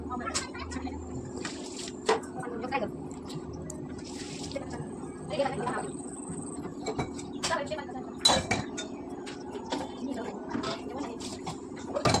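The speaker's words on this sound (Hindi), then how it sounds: "2-4 बर्तन हो गए थे सिंक में, उसको मैं साफ़ की हूँ।" Two to four dishes are washed in a home kitchen sink, with close clinks of pots and utensils, running and splashing water, and scattered sharp knocks throughout, while someone talks.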